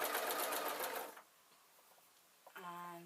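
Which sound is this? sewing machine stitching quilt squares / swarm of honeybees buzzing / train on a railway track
sewing machine stitching quilt squares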